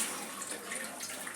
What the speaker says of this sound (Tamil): கொஞ்சம் தண்ணி சேர்க்குறேன்.